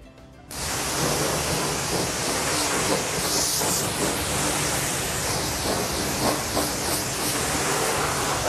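Car being washed with a pressurised water spray in the morning, a steady loud hissing wash that starts abruptly after a brief quiet moment and continues without pause.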